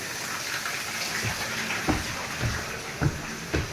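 Water running inside a foreclosed house in Euclid, Ohio, a steady broadband rush like a filling tub or open tap, with a few soft low thumps and splashes rising out of the flow; no talking.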